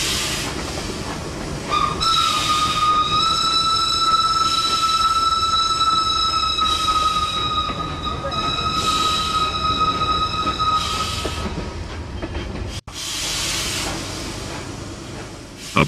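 The Fairy Queen, a 26-ton coal-fired steam locomotive, pulls away with a sustained high whistle-like tone over a constant hiss of steam and rolling rail noise, loud and steady throughout.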